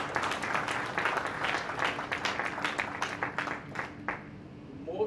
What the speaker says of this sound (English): please join with me and give them a big round of applause